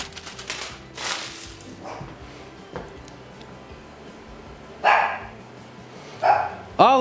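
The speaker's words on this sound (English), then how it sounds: "I told you they were going to start barking" Several dogs bark indoors in a home kitchen, sharp barks arriving in scattered bursts, loudest near the end, over background room noise and a person talking.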